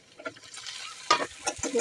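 Sliced green chilies frying briefly in a pan for a pangas fish curry, a short burst of sizzling crackle broken by scrapes and stirring clicks, close and moderately loud.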